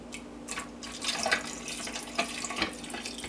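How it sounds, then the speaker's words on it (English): Strong tea poured into a vacuum bottle, a steady splashing trickle of liquid lasting a few seconds, close and moderately quiet, with no voices. "So I'm going to pour this in here like this."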